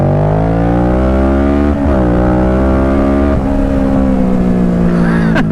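A Kawasaki Z650 motorcycle engine revs hard and loud up close, its pitch climbing steadily through the gears in continuous strong pulls, with a brief dip between surges.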